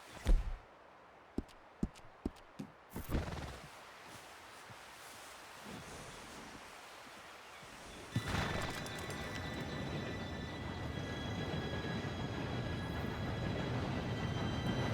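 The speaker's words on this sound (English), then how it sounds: "Train should be here any minute now." An approaching steam train in Red Dead Redemption 2 builds from quiet, with a few sharp knocks early on, into a loud continuous rolling clatter and hiss that swells and holds to the end.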